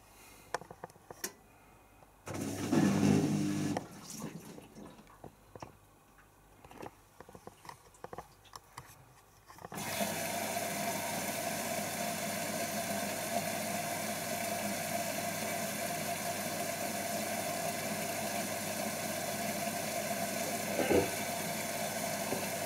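Zanussi ZWC1300 compact washing machine on a Mini 30 cycle reaching full spin at 700 rpm: quiet sloshing and clunks, then a steady loud whirring drone that holds continuously to the end.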